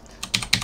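Three quick computer keyboard key presses, sharp close clicks in an irregular rhythm.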